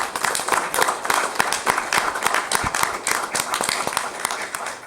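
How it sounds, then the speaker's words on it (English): People at a city council meeting in Inglewood give a round of applause, with dense, lively clapping from a roomful of attendees that stays loud and close throughout. "another round of applause to acknowledge their work"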